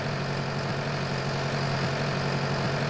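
Steady, loud engine drone of a tractor ploughing a field in Farming Simulator 19, a continuous low rumble with no breaks and no talk.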